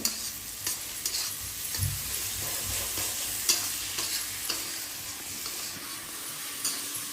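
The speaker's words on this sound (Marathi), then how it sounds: "मसाला म्हणजे थोडंसं हलवून घेते आधी तेलात." Masala stirred and fried in hot oil in a pan, a steady close sizzle broken by scraping stirs and small clatters, with no talking.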